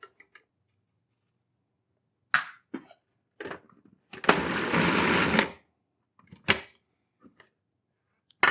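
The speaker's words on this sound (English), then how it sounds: "I just toss that into a food processor and mix it together" A food processor mixes ground pork with bratwurst spices in one short, loud whirring pulse of about a second, surrounded by quiet gaps and a few scattered clicks and knocks.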